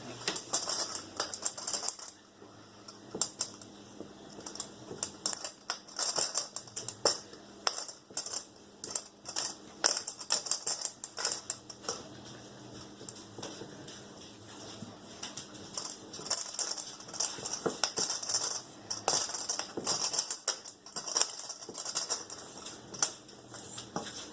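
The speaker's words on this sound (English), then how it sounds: "Now I'm going to use my pastry blender and blend it up." Pastry blender cutting through a lemon bar crust mixture in a bowl, giving a steady run of close, crisp scraping and clicking taps with a quieter stretch partway through.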